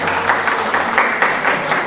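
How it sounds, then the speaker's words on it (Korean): A church congregation claps during a sermon, a fairly close patter of hands with a loose rhythm and a low murmur of voices underneath. "우리 박수 한번 쳐주시겠어요?"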